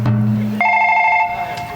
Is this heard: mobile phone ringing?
yes